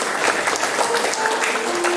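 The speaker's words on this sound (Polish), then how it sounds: "Duże brawa dla naszego miejscowego wojska." Audience applause at a concert for soldiers on their holiday in Siedlce, a loud, sustained wash of dense clapping from a full hall, continuous throughout.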